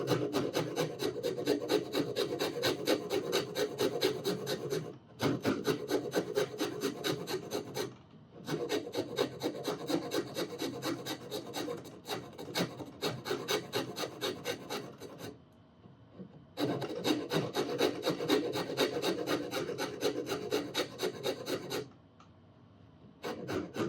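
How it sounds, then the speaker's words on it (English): A coarse file rasps along the wooden neck of a steel string guitar in long, steady strokes, close and fairly quiet, pausing briefly a few times between runs. "I think I want to stop with this coarse file on that side anyway"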